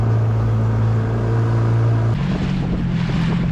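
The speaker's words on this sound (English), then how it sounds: "Got Zach at the helm now." A motorboat engine drones steadily and loudly off a Dominican Republic beach, a constant close hum with wind noise over the microphone and a shift in pitch partway through.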